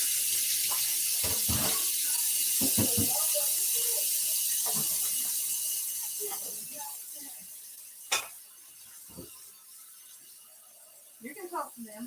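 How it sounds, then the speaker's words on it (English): Warm water running from a kitchen tap into a measuring cup for starting yeast: a steady hiss of flow over several seconds that fades out, with scattered clinks and handling knocks and a voice talking in between. "So I'm getting 2 cups of warm water."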